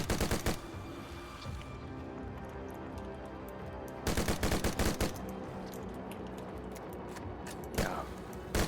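Assault rifle fire in the video game Dead Frontier 2, loud bursts of rapid automatic shots at the start, near the middle and at the end, with a dense layer of game combat noise in between.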